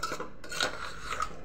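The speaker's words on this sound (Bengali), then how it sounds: "নাড়াচাড়া করে ভালোভাবে কষিয়ে নেব মশলার সাথে" Mutton paya with spices is stirred in a pot, producing short scraping and clattering metal sounds of a spoon against the vessel, close and moderately loud with no voices.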